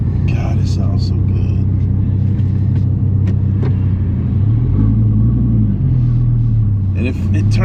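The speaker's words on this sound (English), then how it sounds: "Oh yeah, those burbles." A 2017 Dodge Viper GTC ACR Extreme rumbles with a low, steady exhaust burble, close and loud throughout, with a brief rise and fall in pitch near the end as people talk over it.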